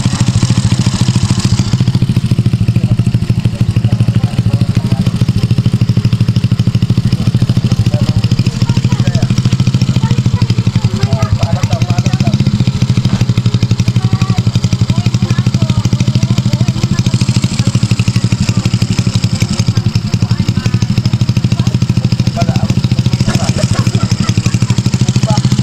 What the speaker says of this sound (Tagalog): Bagong motor ni Noy na XRM na 110